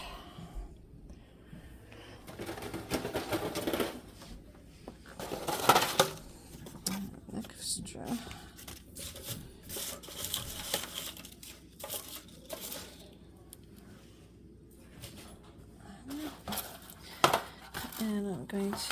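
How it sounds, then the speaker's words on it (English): Aluminium foil pan handled while separating seedlings, with scattered crinkly rattles and light clatters that come and go in short bursts, heard close and fairly quiet under a person talking. "So let me grab my foil pan up here."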